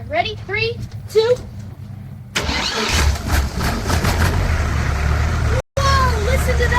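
Heavy excavator engine cranking and firing up, settling into a loud, rough idle that runs continuously; a person talks over it just before it catches.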